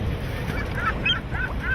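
Seagulls give a few short, faint cries over steady wind and water noise near yachts in a harbor, the calls repeating in quick succession.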